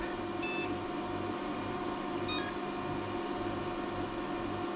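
Short electronic beeps from an arcade PC booting through its VGA BIOS, a few brief tones over a steady hum of fans and machine noise.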